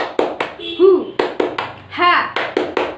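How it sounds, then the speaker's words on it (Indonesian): Children's spirit clapping chant in a playgroup class, sharp rhythmic hand claps in quick bursts mixed with young voices chanting and a teacher speaking over them. "Yuk kita tepuk semangat dulu yuk."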